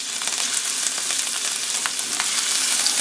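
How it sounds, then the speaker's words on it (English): Raw shrimp frying in a pan over a high-heat burner, a steady, loud, dense sizzle throughout with a few brief crackling pops and no talking. "So I'm going to put the shrimps in first."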